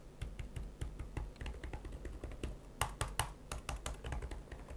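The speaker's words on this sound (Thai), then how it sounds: "ฟีลการกดปุ่มเสียงทุ้มนุ่มลึกไม่ลั่นมากเหมือนคีย์บอร์ดเกมมิ่งโน้ตบุ๊กทั่วไปเดี๋ยวลองฟังเสียงดูนะครับ" Keys on an ROG Zephyrus G15 GA503 gaming laptop keyboard tapped in a quick irregular run of soft, deep, muted clicks, close up and alone with no voices.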